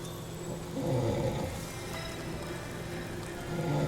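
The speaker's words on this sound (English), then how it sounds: "That rain is making me sleepy." Steady rain falls in the video game NORCO, a soft, even hiss of drops with a faint low roar swelling slightly at moments, fairly quiet and heard alone.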